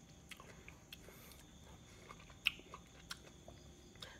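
Biting and chewing soft Hideko melon flesh, close, quiet moist crunches and smacking clicks scattered irregularly over a few seconds, with no talk.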